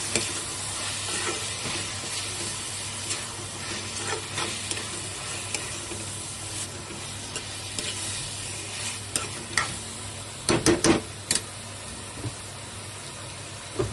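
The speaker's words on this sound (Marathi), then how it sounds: "आता मी एकजीव करून घेणार आहे सगळं।" A spatula stirs and mixes keema with soaked peas in a sizzling pan, giving continuous frying hiss broken by repeated scraping strokes and a few sharper clanks near the end, close up with no talking.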